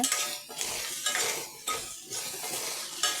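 Okra sautéed with salt in a pan for a spicy Karaikudi-style curry: brisk scraping stirs and metallic clatter of a spatula against the pan over a soft sizzle, close and alone.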